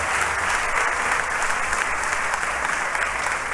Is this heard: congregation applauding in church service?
yes